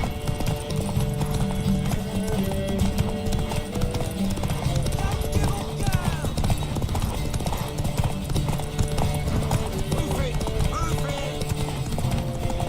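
Steady rhythmic hoofbeats of a horse clip-clopping in the video game The Witcher 3, mixed with music and occasional voices, continuous and fairly loud throughout.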